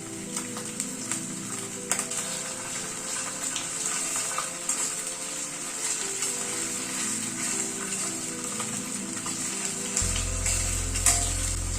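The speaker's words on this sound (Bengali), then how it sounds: "আদা রসুন কাঁচা লঙ্কা সবকিছু পেঁয়াজটার সাথে আরেকবার করে কষিয়ে নিচ্ছি" A paste of ginger, garlic and green chilli fries with onions in a pan, a steady sizzle with stirring and scraping running for several seconds.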